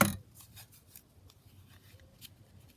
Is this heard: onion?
no